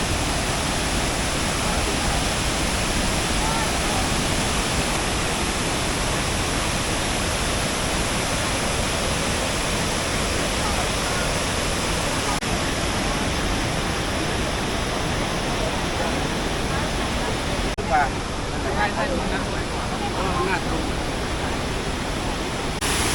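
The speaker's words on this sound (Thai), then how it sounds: "บรรยากาศเป็นน้ำตกครับ" Water pours down Tad Kuang Si falls in Luang Prabang, Laos, a constant broadband roar that holds steady throughout, with a few faint clicks and touches near the end.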